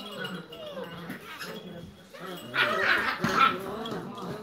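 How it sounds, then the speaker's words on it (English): Puppies whimper and give small yips close by, rising to a louder burst of barking partway through, with a person talking now and then. "Why are you so noisy, puppies?"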